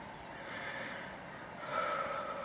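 A deep breath blown out slowly in a calm spoken setting: a soft, airy rush of exhaled air that swells slightly louder toward the end, heard on its own.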